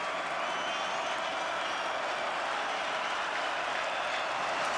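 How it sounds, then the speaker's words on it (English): Football stadium crowd on its feet roaring for a third down in a Western Kentucky vs. Boston College college game, a steady wall of distant cheering and applause with no breaks. "This crowd is on their feet for this 3rd down."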